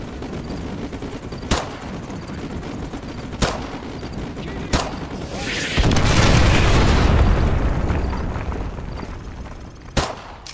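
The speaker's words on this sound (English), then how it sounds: "Call artillery on the enemy vehicles. Coordinates confirmed. Firing." An artillery strike in the video game Modern Warfare 2 Remastered hits with sharp booming blasts at intervals and one long roaring explosion in the middle, over a steady rattle of distant gunfire.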